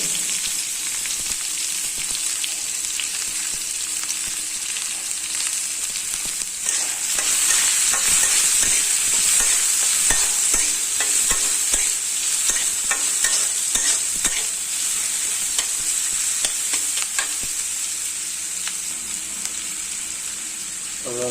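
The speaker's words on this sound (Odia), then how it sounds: "ବର୍ତ୍ତମାନ ଠିକ ପିଆଜ ପଡ଼ିଗଲା" Onions frying in a pan after cumin seeds, a continuous bright sizzle with rapid scraping strokes of a spatula stirring throughout, close and loud with no talk.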